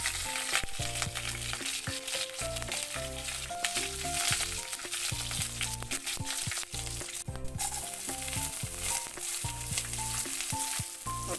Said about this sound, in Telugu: ఆయిల్ వేడిగా ఉంటే తాలింపులు చిటపటలాడతాయండి